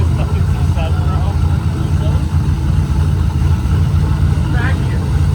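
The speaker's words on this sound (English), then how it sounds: "do you hear the injection on this fucking C7" A Chevrolet Corvette C7 engine idling with fuel injection ticking, giving a loud, steady, close rumble throughout while voices talk over it.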